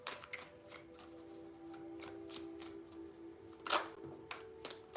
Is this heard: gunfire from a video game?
no